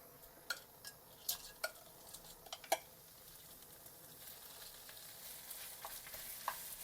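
Shrimp heads and shells are stir-fried in a pan, giving a steady soft sizzle close by, with scattered light clicks and scrapes of a utensil against the pan.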